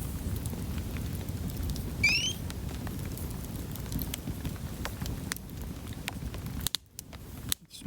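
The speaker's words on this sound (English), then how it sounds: "It's raining, but not hard." Light drizzle patters steadily at a mountain camp in the Uinta Highlands, a soft continuous hiss of fine drops with a brief bird chirp, ending in a couple of abrupt gaps.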